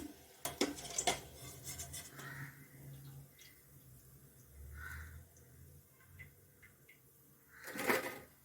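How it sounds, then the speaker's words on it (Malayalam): Fried snacks being scooped out of a pan of oil: light metallic clinks and scrapes of a ladle against the pan, with faint bubbling between sparse knocks, near and quiet. "എല്ലാം മൂത്ത് കഴിഞ്ഞ് നമ്മൾ മുഴുവനും കോരിയെടുക്കുകയാണ്"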